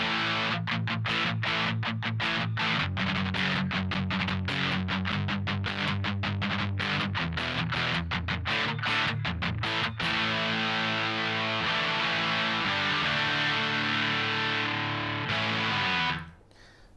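A crunchy electric guitar through a ProCo Rat distortion pedal at medium gain plays chugging chords and riffs for several seconds, ringing out at the end before cutting off.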